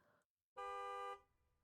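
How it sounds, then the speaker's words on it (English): A single sustained car horn blast in a video game set on a cold December city street, loud and steady for about half a second, with faint traffic rumble around it. "A car honks loudly."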